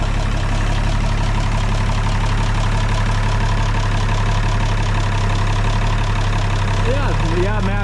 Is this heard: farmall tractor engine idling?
yes